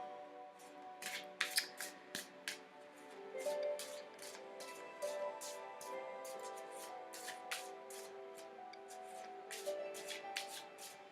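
Tarot cards being shuffled close up: repeated quick riffling bursts in an uneven rhythm, soft and intimate, over a quiet background hum with no talking.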